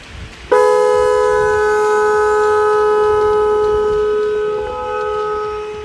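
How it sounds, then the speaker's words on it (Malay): A car horn fitted alongside a VF3i Pro Mini spotlight sounds in one loud, steady blast of about five seconds that starts abruptly and fades slightly near the end, with no talking. "Okay, cuba horn."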